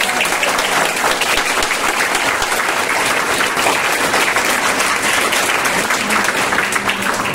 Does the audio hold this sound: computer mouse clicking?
no